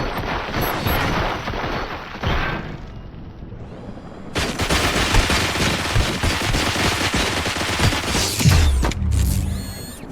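Dense gunfire volley in the video game RoboCop: Rogue City, loud sustained bursts with mechanical clatter and a brief dip before the shooting surges again, with no speech.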